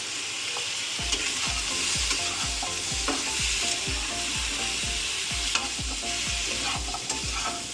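Okra and mixed vegetables stir-fried with cumin, coriander and turmeric in a pan, a continuous sizzle broken by a regular run of scraping stirring strokes, close and fairly loud, no voices.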